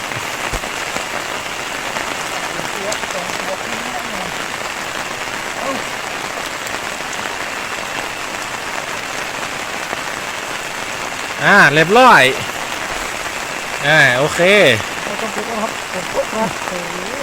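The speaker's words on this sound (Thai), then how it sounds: "ฝน ตกนะ" Steady rain hisses continuously close by, and someone speaks briefly twice over the downpour near the end.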